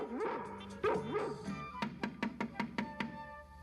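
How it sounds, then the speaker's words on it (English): Several Dalmatian puppies yip and bark, starting with whimpery cries and then a quick run of six or seven sharp, evenly spaced barks close by. "There sat my proud Perdita with 15 adorable puppies"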